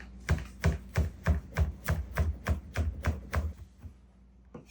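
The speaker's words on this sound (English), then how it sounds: "I'm gonna bunch this up together and give it a rough chop" Flat leaf parsley bunched together and roughly chopped with a knife on a board: about a dozen quick, even thuds in a steady rhythm, close and clear, slowing and stopping near the end.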